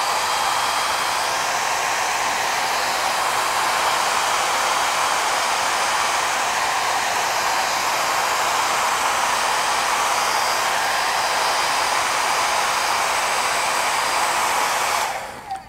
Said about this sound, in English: Let me hit my hair dryer real quick to make sure my yellow is dry.